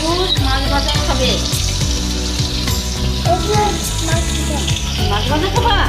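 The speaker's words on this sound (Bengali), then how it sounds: "এটা হচ্ছে মাছ ভাজা" Shoal fish crackle and sizzle in hot oil in a home kitchen, a dense continuous frying noise mixed with a prominent melodic tune playing throughout.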